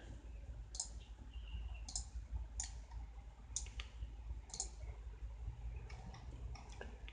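Sharp computer mouse clicks, about eight, spaced irregularly with some quick pairs near the end, heard close and clear over a low background rumble while building a Roblox game on a PC.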